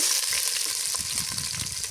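Loud, dense sizzling of two medium onions dropped into hot oil for a Mughlai biryani, a constant close hiss with faint bubbling crackle throughout.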